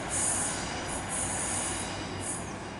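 A Great Western Railway class 153 diesel unit, 153318, runs a Plymouth to Gunnislake service round a curve at Devonport, its wheels squealing loudly and continuously over a steady rumble, with no voices.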